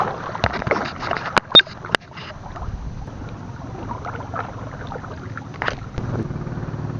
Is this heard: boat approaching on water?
yes